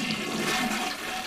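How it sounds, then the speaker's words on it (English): A toilet flushes with a loud, continuous rush of swirling water, close and dense throughout, with no talking. "If you're trying to flush yourself down the toilet, it won't work."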